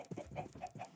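A Minecraft chicken gives a quick burst of three or four soft clucks, close and alone, in under a second.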